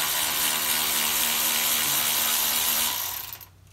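Power tool or ratcheting wrench loosening transmission pan bolts underneath a Lexus IS F, a loud continuous whirring buzz up close that runs for about three seconds and then winds down and stops.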